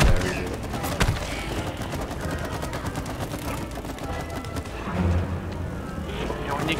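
Bursts of rapid gunfire from the co-op video game It Takes Two crackle in quick, dense volleys that run steadily throughout.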